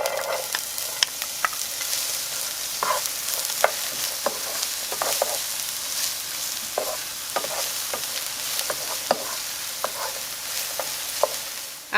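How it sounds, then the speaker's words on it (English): Onions sautéing in about a tablespoon of oil in a pan, a steady close sizzle broken by frequent sharp scrapes and taps of a spoon stirring, with no talking. "we're going to add our onions and we're going to saute them for about 3 minutes"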